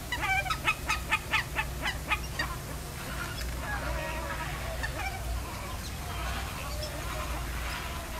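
Hawaiian Nene geese call at feeding time, a quick run of short, nasal honks and clucks close by at first, then sparser calls over a low steady background hum.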